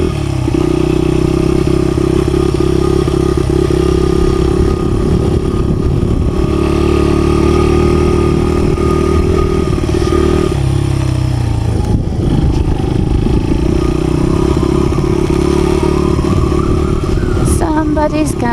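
A dirt bike engine drones steadily and loudly while riding around a property, its pitch shifting as it slows and picks up again, with rattling and clatter over the motor.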